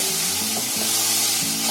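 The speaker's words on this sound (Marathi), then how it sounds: "आता हे पण मसाले असे जरा फिरवून घेतले." Chilli masala, coriander powder, turmeric and cumin powder sizzle loudly as they are stirred in hot oil for misal, a continuous close hiss with faint tonal background music underneath.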